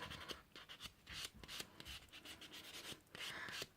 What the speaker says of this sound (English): just with a little buffing block, light buff over your nail